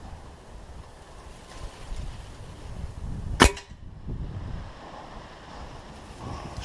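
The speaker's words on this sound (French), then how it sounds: "Pouvoir tirer 10 plombs comme ça." A single sharp, loud crack from a Gamo Speedster IGT10X Gen2 air rifle firing a Solognac 100 Pointus pellet outdoors. Low wind rumble continues before and after the shot.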